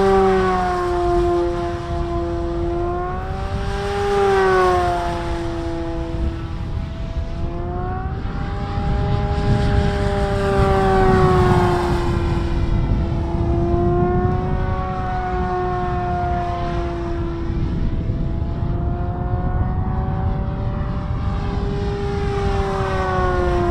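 A radio-controlled model airplane flies overhead, its electric motor producing a steady, high, siren-like whine that rises and falls in pitch as the plane changes speed and direction, fairly loud with no talking.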